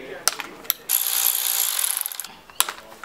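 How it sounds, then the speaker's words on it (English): A hand ratchet undoes the bolts on a turbo blow-off valve from an E46, with a few sharp clicks followed by a long buzzing ratcheting run and more clicks, close and loud. "All I got to do is get these 6 bolts off and then it'll come apart."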